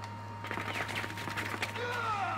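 Gunfire in the video game Rainbow Six Siege: a rapid burst of close shots crackling over a constant low hum, followed by a faint whistling tone near the end.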